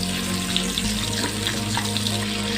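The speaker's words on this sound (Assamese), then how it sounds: "তেতিয়া ইয়াতে মই মাছকেইটা দি অকণমান ভাজি লওঁ।" Fish fry in hot mustard oil in a wok, giving a dense, continuous sizzle and crackle at close range with no voices.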